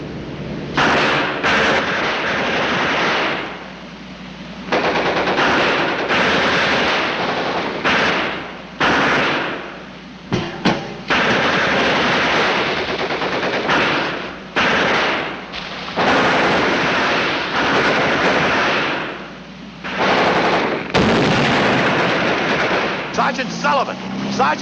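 Dense gunfire in a 1951 WWII battle scene with a tank, loud and nearly continuous with bursts and booms separated by short gaps, with shouting voices mixed in among the shots.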